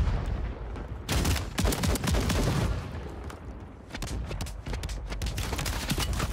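Gunfire from a Modern Warfare 3 multiplayer match arrives in dense, loud bursts of close automatic shots, broken by short pauses. Heavier booming blasts are mixed in, and no one speaks over it.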